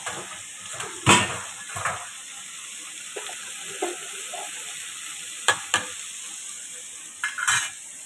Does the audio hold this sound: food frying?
yes